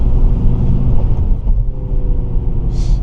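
Artificial engine sound from a Xiaomi SU7 Max electric car plays as a steady, loud, low rumbling drone inside the cabin, swelling slightly as the car accelerates; nobody speaks.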